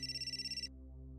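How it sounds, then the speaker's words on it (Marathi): A mobile phone ringtone trills in rapid pulsing bursts for well under a second, then cuts off, leaving a steady low hum behind. "हे अमित दादांचा फोन आहे."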